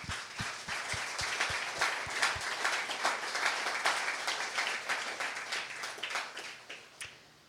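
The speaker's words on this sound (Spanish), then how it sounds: "Dar un aplauso a nuestro Señor." Church congregation applauding together during a Spanish-language Sunday service, steady dense clapping with some hand taps, fairly far and even, tapering off at the end.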